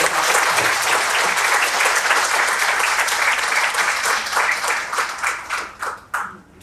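Audience applause at a history program on the Underground Railroad, loud and full at first, then thinning into scattered individual claps that fade near the end.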